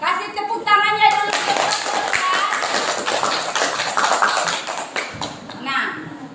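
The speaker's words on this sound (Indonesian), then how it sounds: "Kasih tepuk tangannya dulu." Applause in a classroom as students clap for a group's presentation, a burst of mixed hand claps lasting several seconds with children's voices and chatter mixed in.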